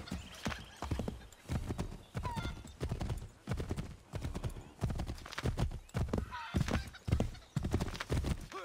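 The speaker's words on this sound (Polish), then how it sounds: "O tak, pogalopujemy sobie. Patataj, patataj." A galloping horse in Assassin's Creed 3, loud rhythmic hoof beats in steady bursts, with occasional whinnies and faint game sounds around them.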